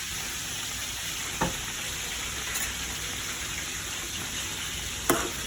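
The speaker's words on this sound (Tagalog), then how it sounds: "Pinirito muna natin yung isda." Tilapia pieces fry in oil with a steady, dense sizzle and fine crackle, close and continuous, broken by a couple of faint clinks; no voices.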